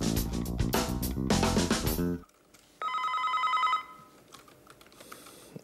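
A telephone bell rings in one sustained burst after music cuts off abruptly, with quiet room sound around it and no talk.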